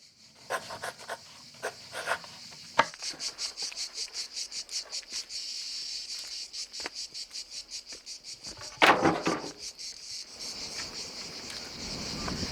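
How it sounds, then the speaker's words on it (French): Cicadas on the island of Filicudi, Sicily, singing in a loud, continuous pulsing buzz with rapid rhythmic chirps, plus a few louder bursts from a nearby insect. "j'aime bien le chant des cigales."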